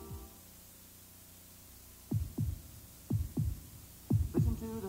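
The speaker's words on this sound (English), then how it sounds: "Listen to the heartbeat." Heartbeat sound effect from a 1986 Chevrolet Corvette television commercial: three pairs of deep, thudding lub-dub beats evenly spaced about a second apart after two seconds of quiet hum.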